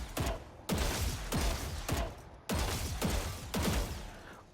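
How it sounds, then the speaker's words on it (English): Gunfire while strafing in the video game Valorant, five loud, heavy bursts of rapid shots spaced about a second apart, each a sharp onset with a decaying rumble. "The next part is strafing. Strafing while shooting."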